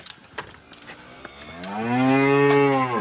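Cows on an alpine pasture, with faint shuffling and knocks before one cow lets out a long, loud, close moo that swells and holds to the end.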